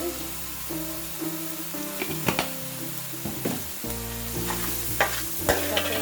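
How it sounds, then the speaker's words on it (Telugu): Crab curry frying in a pan with turmeric and salt, a steady close sizzle broken by several sharp scrapes and knocks of a stirring spoon. "బాగా వేయించుకోవాలి"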